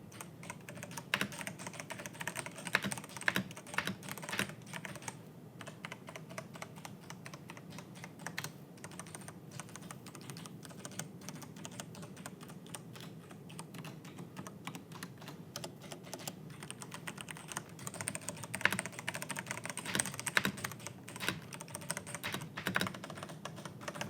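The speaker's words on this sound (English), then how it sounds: "this is definitely a nice keyboard to type on" Steady typing on a mechanical keyboard fitted with Cherry MX 2A brown switches. The keystrokes come as a dense, continuous run of soft, close clicks and clacks, with no talking.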